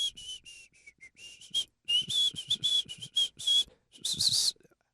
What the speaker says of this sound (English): let's do our best whistle